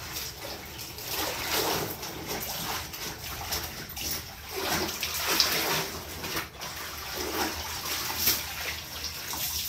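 Water from a household tap runs steadily with a broad, even splashing hiss, fairly soft and continuous throughout.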